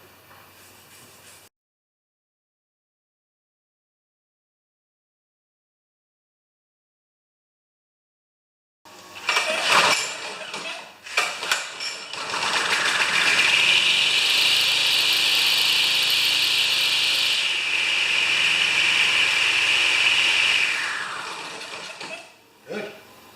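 A Husqvarna brush cutter that had trouble starting, tested after a spark plug check, revs up after silence with a few sputtering bursts, then runs at a loud, steady high-pitched whine for about ten seconds before dropping off.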